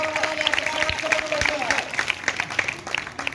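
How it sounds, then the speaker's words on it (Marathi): Children at a primary-school quiz program for first to fourth graders break into a burst of clapping, a dense, steady patter of many small hands that holds for a few seconds without fading. "सुपर टाळ्या"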